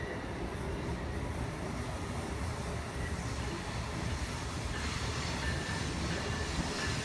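A train rolls steadily over railway switches and crossings, a continuous loud rumble of wheels on rails with faint squeal, alone without talk.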